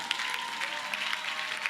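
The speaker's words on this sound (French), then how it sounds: "je vais demander qu'on vous applaudisse encore plus fort" Steady applause from an audience at a singing competition, a dense even clatter of many clapping hands that fills the whole short stretch at moderate level.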